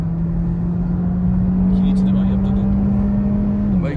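A Volkswagen Virtus GT in a drag race against a Kia Seltos 1.5 CRDi gives a loud, steady engine drone that holds one pitch and dips at the end, with road rumble underneath and a voice briefly over it.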